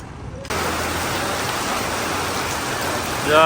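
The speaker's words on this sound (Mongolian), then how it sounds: "За бороо асгарсан." Heavy rain pours in a dense, constant roar in Guangzhou, China, starting abruptly after a brief quieter moment.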